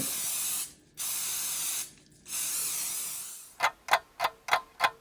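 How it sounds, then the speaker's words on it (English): Three long hissing bursts from an aerosol cooking spray can onto a cookie sheet close by, followed by a rapid series of short sharp spritzes. "spray your cookie sheet"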